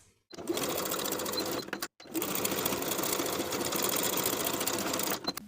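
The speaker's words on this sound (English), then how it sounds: "Sew with a 3/8 inch seam allowance and finish the raw edges." A sewing machine stitches a neckline facing seam on pajamas in two steady continuous runs, close and even, with a brief pause between them.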